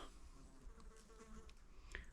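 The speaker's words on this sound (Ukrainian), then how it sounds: "Ой, як мухи полюбляють той запах." Flies buzz faintly in a forest, drawn to the smell of a rare mushroom, a soft continuous drone with brief louder passes over quiet background hiss.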